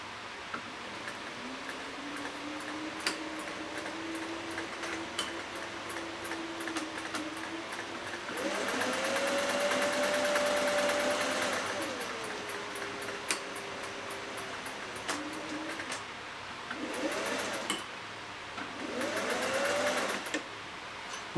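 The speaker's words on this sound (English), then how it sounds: "So I'm going to go forward with stitching 3 or 4 and then back tack and then go forward again." A Singer 401A sewing machine runs in short bursts, its rapid mechanical whirring and ticking rising and falling in pitch as it stitches forward, pauses, back tacks, then stitches again, with quiet clicks between runs.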